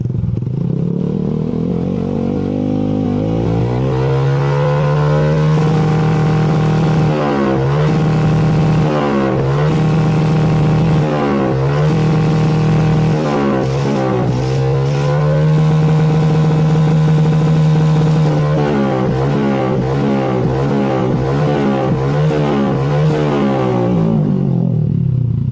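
Honda Karisma 125 motorcycle engine held near full throttle during a charging-voltage check: a loud, steady close-up drone with repeated rhythmic throttle surges and clattering pulses that last about twenty-five seconds, with no talking.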